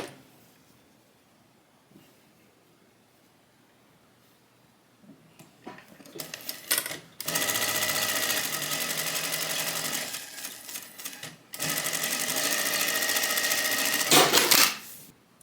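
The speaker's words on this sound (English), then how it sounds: "we are going to stitch this on with a 1/4 inch seam allowance" A sewing machine stitches a zipper onto tote bag fabric, starting after a quiet stretch with a few short test bursts, then two long, steady whirring runs separated by a brief pause.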